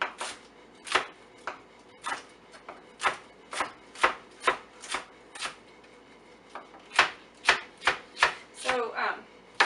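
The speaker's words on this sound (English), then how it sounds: "Slice them into little slivers." A knife slices cabbage into thin slivers for sauerkraut, each cut landing as a sharp, close thunk on a cutting board in a quick, uneven rhythm of about twenty strokes, with no talking.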